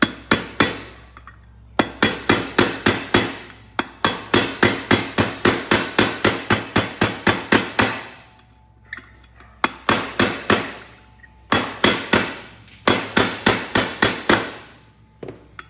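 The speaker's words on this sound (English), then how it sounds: "Just hammer it down flush." Rapid metallic hammer blows on a punch driving a pin flush, working on a Polaris RZR, ring out in fast runs of a dozen or so strikes, separated by short pauses, loud and close.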